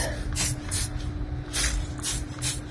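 A wheel cleaner spray bottle is pumped five times in quick bursts of hissing, non-misting spray, close up, with a steady low hum underneath.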